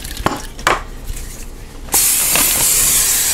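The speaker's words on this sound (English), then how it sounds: "Might give me one spray of olive oil spray." A few light clicks and taps, then a sudden steady hiss of an olive oil spray can spraying into an air fryer basket for over a second, close by.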